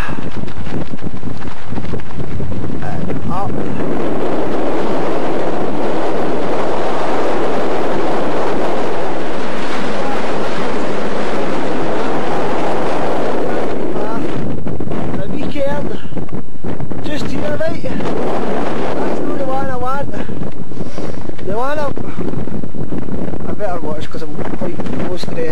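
Cold wind blowing across an exposed Scottish mountainside near Ben Vorlich, a steady broadband rush buffeting the microphone throughout, with a person speaking briefly over it toward the end.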